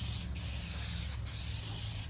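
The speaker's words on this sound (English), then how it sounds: "So you just spray it on both pieces." Contact adhesive sprays from an aerosol can onto pieces of wood in a workshop, a steady close hiss that runs continuously for about two seconds.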